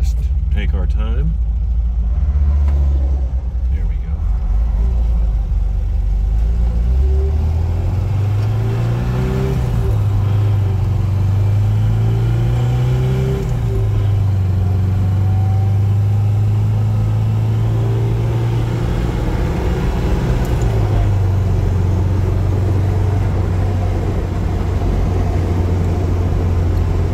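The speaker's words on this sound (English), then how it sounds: "To see how this car performs, which I'll admit, I'm pretty impressed." Engine of a 1969 MGB convertible pulls through the gears while driving in light traffic, its pitch rising and dropping with several shifts, loud and close beneath ongoing talk.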